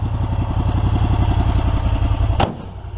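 A gas EZ-GO ST 4x4 golf cart engine idles with a loud, rhythmic close chug until its compartment lid slams shut with one sharp bang, after which the engine sounds muffled.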